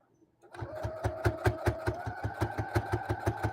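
A sewing machine stitches a keyfob seam slowly, starting after a brief pause and then running a steady, even train of close, loud mechanical stitch beats, with no one talking.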